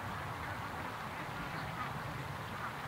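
Ducks on a creek quacking faintly in the distance beneath a steady, broad outdoor hiss, with no talking.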